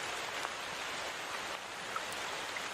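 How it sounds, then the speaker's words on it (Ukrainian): Steady rain falls in a dense, even hiss of many drops, moderately loud and close, with a few faint individual drip ticks and no voices. "А тепер заплющи очі та послухай звуки дощу"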